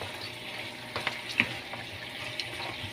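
Merienda snacks frying in hot oil, a steady low sizzle with a few sharp pops and crackles scattered throughout, no talking.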